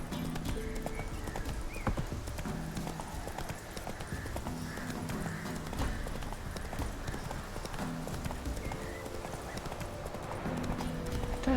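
Roach the horse in a video game clip-clops along at a steady walk, hoofbeats continuous and close, with an occasional whinny over faint background sound.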